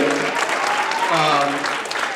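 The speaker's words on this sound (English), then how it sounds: "let's give the swag team a big round of applause for the steps that they just did" Audience applause for a school dance team's steps, thick continuous clapping with voices and cheers mixed in, loud and close throughout.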